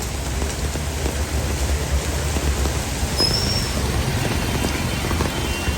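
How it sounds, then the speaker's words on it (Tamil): Heavy rain pours onto a street during flooding in Jaffna, a dense, continuous hiss of drops striking the surface that holds steady and fairly loud throughout, with no voices. "பார்த்தீங்களா எப்படி மழை பெய்யுது."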